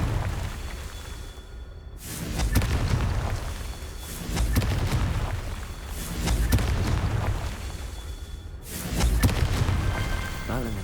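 The Confringo blasting spell explodes in Hogwarts Legacy, a series of four heavy booms spaced about two seconds apart over a steady, busy game background.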